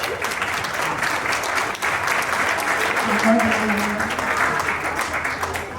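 A poetry-reading audience claps continuously, a dense patter of hands sustained for several seconds, with a voice briefly audible beneath it.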